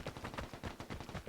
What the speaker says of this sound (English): But you hear those shots? They sound like they're in front of us, aren't they?